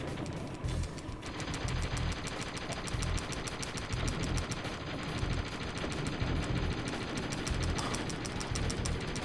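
Enemy gunfire in the Beast Wars: Transformers game on a desert level: rapid, repeated bursts of shots that keep going without a break, close and steady, with no talking.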